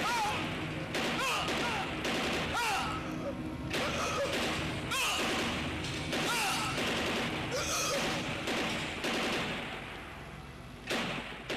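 A volley of gunfire rings out in a staged battle scene at a school event, with repeated sharp bangs and rapid bursts over about ten seconds, loud and close, mixed with shouting and crowd noise.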